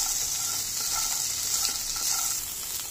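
Sama rice is stirred and roasted with boiled potato and salt in a pan, a steady soft sizzle running throughout with faint scraping strokes, no voices.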